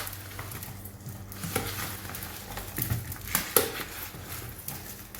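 Ground spices being stirred through mixed vegetables for pickle, giving a close, steady wet rustle and scrape with occasional louder clinks and pats of utensils against the bowl.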